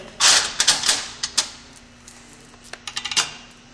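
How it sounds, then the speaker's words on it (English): Metal bolts clatter and click into a C4 automatic transmission valve body, quick bursts of sharp taps in two clusters with a quiet gap between. "We'll put the rest of the bolts back in."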